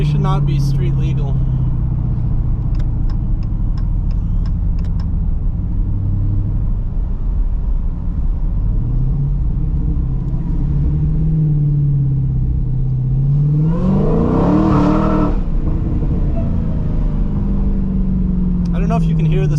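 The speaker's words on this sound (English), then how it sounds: "I don't know if you can hear the Supercharger, but it's quite loud." Supercharged Dodge Challenger Hellcat Redeye driving with a steady engine drone and a rising whine that climbs sharply as it accelerates near the end, loud and continuous throughout.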